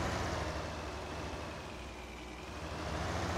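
A steady tractor engine in Farming Simulator 19 hums as a constant, broadband drone, moderately loud and unchanging, with no talk over it.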